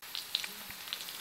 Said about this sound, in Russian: Высыпал я уже картошку. Олейки влил. Масло. И мы слышим, как она шкварчит.